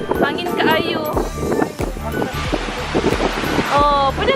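Strong wind buffets the microphone with rushing, roaring gusts at a seaside spot in Mati, Davao Oriental, while people talk and call out over it.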